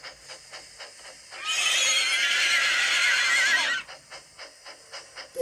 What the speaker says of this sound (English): Everyone listened for the strange neighing